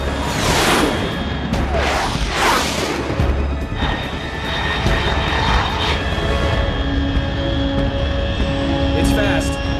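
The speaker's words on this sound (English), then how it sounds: "Unidentified aircraft detected." Fast jet roaring overhead in the Metal Gear Solid 3 game, with loud broadband whooshing passes early on that settle into a sustained engine drone with steady tones and a low rumble.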